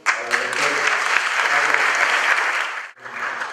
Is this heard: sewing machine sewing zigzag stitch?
no